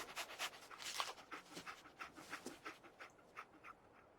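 Dog panting in the video game Fallout 4, a rapid, rhythmic series of breathy huffs heard up close and fairly quiet, with no talk over it.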